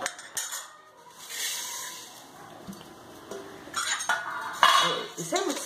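Amla pieces being mixed with sugar in a metal pot, with a utensil scraping and clinking against the pot in uneven bursts, close and fairly loud, louder knocks toward the end.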